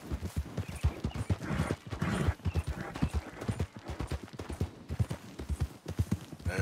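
Horse hooves clip-clop steadily in the open-world western game Red Dead Redemption 2, a close, rhythmic trot that continues through the whole stretch, with an occasional faint whinny.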